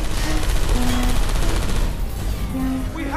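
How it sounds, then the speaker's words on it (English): Gunfire in the video game Portal, a dense, loud burst of rapid shots rolling on for about three seconds, with brief tonal game sounds layered over it. "I heard gunfire!"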